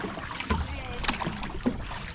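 Early-morning paddle on the water off Fiji, with soft splashing strokes and water movement under wind noise, and a voice briefly in the background.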